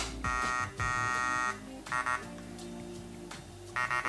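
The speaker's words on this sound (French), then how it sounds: "Ensuite, il y a différents bips." Several loud electronic beeps from a PPK20 airsoft gun's settings, a long tone, then shorter paired chirps, sounding close over a quiet background.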